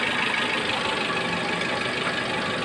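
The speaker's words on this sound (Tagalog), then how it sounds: "Umaandar yan. Tahimik yung kanyang andar." A Suzuki APV idles quietly at close range, its engine giving a steady, even hum without any change in pitch.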